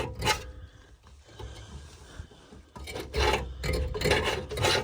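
A heater blower fan in an old abandoned Ford scrubs and rasps inside its housing, a steady rubbing whir that dips briefly and then returns louder and more insistent, close by with no talk over it.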